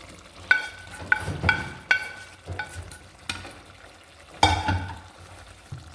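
Chicken gravy with roasted onions being stirred in a frying pan: a spoon scrapes and clinks against the metal in several sharp, irregular strokes over a low, gentle sizzle, close and fairly loud.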